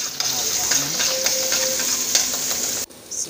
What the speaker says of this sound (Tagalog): igigisa ko na po ang aking mga ingredients po